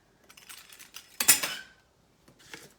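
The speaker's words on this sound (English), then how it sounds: "So I'm gonna cut this with a pizza cutter." A pizza cutter rolls through croissant dough to divide it into quarters, giving one firm, close pressing-and-rolling burst between a few lighter taps and handling noises.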